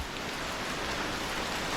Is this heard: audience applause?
no